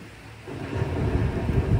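Thunderstorm sound effect played during a three-act Marathi social stage drama, a low rumbling roll of thunder with rain-like hiss swelling after a quiet start and continuing steadily, with no talking over it.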